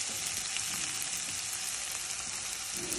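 Finely chopped onion fries gently in a pan for potato toast filling, giving a dense, even sizzle that holds at a steady moderate level throughout, with no talking.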